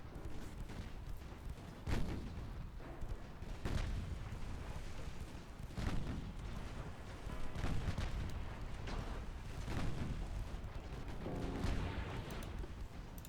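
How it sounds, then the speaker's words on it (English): The ship Sheffield fires torpedoes in a 1930s British naval strategy game: sharp repeated booms and gunfire-like cracks at intervals over a steady rumbling background, moderately loud with no talk. "Sheffield firing our torpedoes at Rostock."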